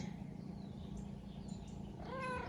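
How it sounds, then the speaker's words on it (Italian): A cat meows briefly near the end of the clip, fairly close but soft, over a steady low hum of outdoor background noise at a historic site visited by camper. "qui è tornato il gatto che per farsi notare viene su tutti i leggii"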